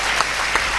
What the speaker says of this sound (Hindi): जरा एक बार ताली बजाइए।